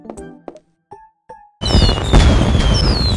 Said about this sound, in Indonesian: Aku udah nyalain kembang apinya.